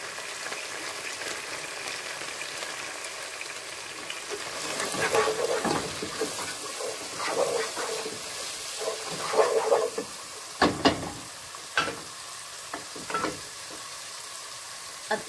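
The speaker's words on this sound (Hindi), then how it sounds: "इसको भी एक मिनट फ्राई करेंगे। फ्राई हो रही है जब तक इसमें हम हल्दी और नमक भी मिला देंगे।" Minced meat qeema fries in a pan with turmeric and salt, a steady broadband sizzle throughout with several sharp stirring scrapes and clicks toward the end, close and moderately loud, no talking.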